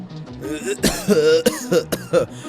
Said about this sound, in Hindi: तभी जोर जोर से खांसने लगता है और उसकी सांस फूलने लगती है।